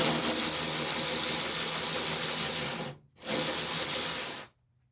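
A Ryobi power ratchet whirs in two close, loud bursts while working on a Prius, the first run about three seconds long, then a brief pause before a shorter second run.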